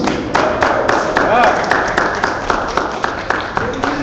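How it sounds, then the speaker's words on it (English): Steady clapping from a gathered crowd, a continuous patter of hands with a few sharper claps standing out, fairly close and sustained. "Can we please get a clap, please?"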